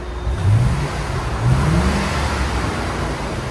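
A 1980 Mercedes 450SEL 4.5L V8 on the stock exhaust, close and throaty, blips up in two quick revs, then settles back into a steady low idle.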